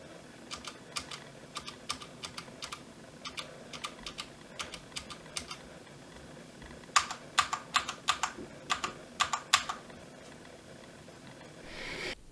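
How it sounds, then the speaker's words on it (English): Clicky, tactile typing on a Corsair keyboard with undampened Cherry MX switches, bursts of sharp keystrokes in uneven rhythm with a pause midway, close and moderately loud over faint background hiss. "the switches used on this keyboard sound a lot more tactile and it sounds like it doesn't have a dampener"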